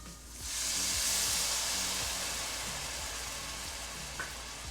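Half a cup of Marsala wine poured into a hot pan with toasted flour, hissing in a sudden burst of sizzle that settles into a steady simmering fizz, close and uninterrupted.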